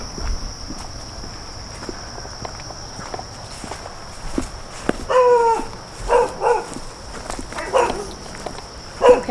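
Dogs at a rescue property bark in several short bursts over scattered footsteps and faint outdoor background noise, the barks fairly near and growing more frequent toward the end.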